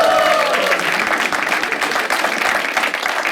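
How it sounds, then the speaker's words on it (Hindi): A stand-up comedy show audience applauds for comedian Shaad, a dense, steady wash of clapping that holds loud throughout with a faint trace of a voice at the start. "हम लोग क्या एक बार शाद के लिए ताली बजा सकते हैं?"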